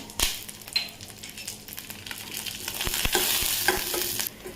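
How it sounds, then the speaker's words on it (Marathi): Cashews, almonds and raisins fry in a spoonful of ghee in a pan for a fasting sabudana dish, with a steady close sizzle, scattered pops and stirring scrapes building louder toward the end. "मी थोडेसे काजू बदाम आणि मनुके घेतलेले ते आपण तळून घेऊ पहिले"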